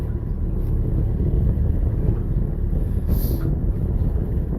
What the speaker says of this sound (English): So I'm going to throttle Throttle up a little bit